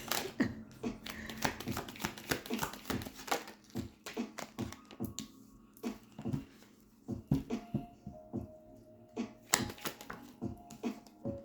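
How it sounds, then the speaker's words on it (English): A deck of tarot cards is shuffled by hand close up, giving quick rustling riffles and soft taps and slaps on a table in irregular bursts, with no speech. "Do another shuffle here."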